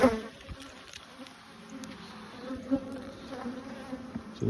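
A honeybee hive buzzes in a steady, dense drone during an open-hive inspection, close up with a few louder passing bees and no speech.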